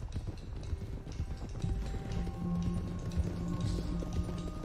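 Galloping horse hooves in the open-world western game Red Dead Redemption 2, a steady, busy clatter of hoofbeats running close and fairly loud throughout, with no talk over it.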